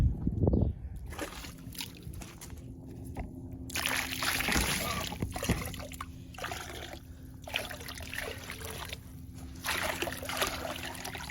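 Water sloshing and trickling as it is poured off a gold panning dish beside a hex pan outdoors, with uneven splashes and dribbles continuing for about ten seconds at close range under a steady background hum.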